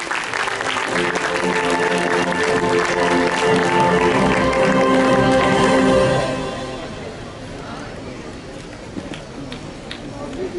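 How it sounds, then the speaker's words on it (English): An audience at a Model United Nations closing ceremony applauds a delegate of Iceland, loud dense clapping with music or cheering mixed in for about six seconds before it fades to a quieter room with scattered sounds. "Round of applause for this delegate."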